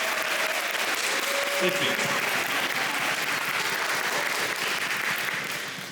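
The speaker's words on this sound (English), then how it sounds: "How about a round of applause for the 8th grade band that's seated in front of you up there?" Sustained audience applause fills a school auditorium after a junior high spring band concert introduction of the 8th grade band, steady and dense throughout, with a brief spoken thanks over it before it starts to fade at the end.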